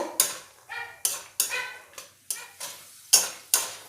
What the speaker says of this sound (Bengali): দিয়ে বাদামটাও একটু ভালো করে ভেজে নেব।